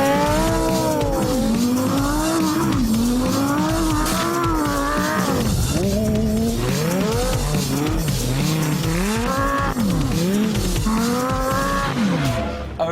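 Lamborghini Gallardo LP560-4 with traction control off, revving hard and sliding on ice, its loud V10 rising and falling continuously with tire squeal as it skids around.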